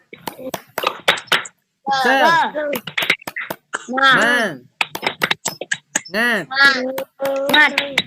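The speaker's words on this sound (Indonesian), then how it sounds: "coba kita lakukan tepuk semangat dulu anak-anak" Schoolchildren in a classroom perform a rhythmic clapping chant, their voices chanting in unison between sharp, close hand claps in a bouncy pattern with short pauses.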